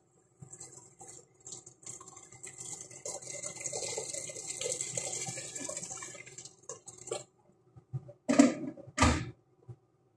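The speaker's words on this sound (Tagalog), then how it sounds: "Lagyan na natin ng sabaw." Broth is poured into a pot of cooking fish, a steady liquid pour for several seconds followed by a few louder splashes and knocks, close and with no talk.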